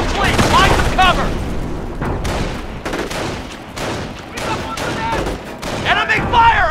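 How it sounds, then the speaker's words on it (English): Small arms and machine gun fire in the Company of Heroes World War II game, with dense overlapping bursts and rattling volleys and heavy booms, loud and continuous, with shouted voices mixed in. "The squad is taking small arm fire!"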